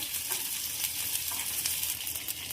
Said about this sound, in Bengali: পেঁয়াজটা একটু নেড়ে দিলাম ভাজার জন্য।